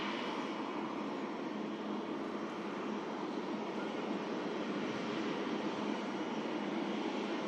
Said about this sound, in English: Beautiful Singapore Airlines Airbus